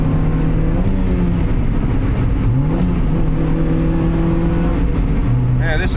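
Engine of a car being driven with Coke in place of coolant in the radiator, a loud steady drone with shifting pitch as it speeds up and eases off, with someone talking over it.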